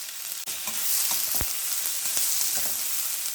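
Onions and curry leaves frying in a pan, with a loud steady sizzle and repeated scraping stirs, one sharp knock near the middle, alone without talking.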